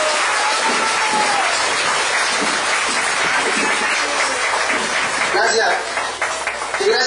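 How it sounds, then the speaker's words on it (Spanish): Dense crowd applause fills a birthday party, sustained and loud throughout, with claps and cheers blending together and a brief dip near the end. "bríndeme un fuerte aplauso, por favor, a mi señor padre"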